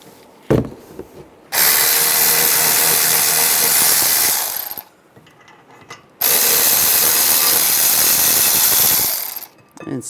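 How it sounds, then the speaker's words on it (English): A power tool spins out the caliper bracket bolts on a Toyota Camry rear brake through a 17mm socket, in two loud sustained bursts of about three seconds each, close up, with brief quiet between them. "Using a 17mm socket, we'll take these two caliper bracket bolts out."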